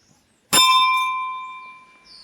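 A single bell struck once, ringing out clearly and then slowly fading with a long, sustained shimmering tone.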